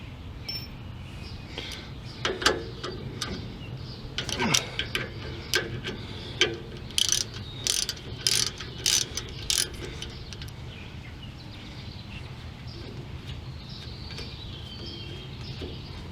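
A ratchet spins out a brake caliper slide bolt on a Ford F150 rear brake, giving rapid, crisp clicking in irregular bursts over the middle of the clip. Quieter mechanical background fills the rest, with no speech.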